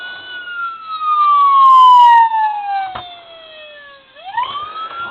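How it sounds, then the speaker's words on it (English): A toy siren from a Motormax 1:24 scale Dodge Charger police car sounds loud and close, with electronic wailing tones that sweep down and then jump back up, playing alone with one sharp click midway. "It'll be the siren along with the lighting pattern."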